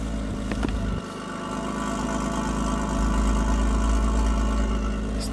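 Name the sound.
straight-six petrol car engine idling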